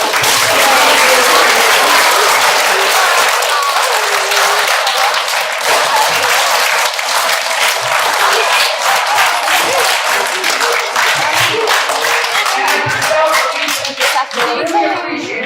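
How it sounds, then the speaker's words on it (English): An audience gives teachers a long, loud round of applause at a school reading event. Dense, sustained clapping continues throughout and fades slightly toward the end. "Let's give your teachers a round of applause."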